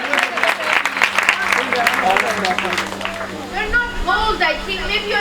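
Church audience applause at a Hindi-language Christian gathering, a dense, steady patter of many hands clapping together with someone speaking over it, the clapping thinning out near the end.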